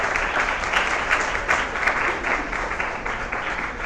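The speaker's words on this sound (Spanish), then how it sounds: "Queremos darle un fuerte aplauso a nuestro conferenciante y a la moderadora por la presentación." An audience at a live conference event applauds a speaker and moderator, producing steady, moderately loud clapping that continues throughout without talk.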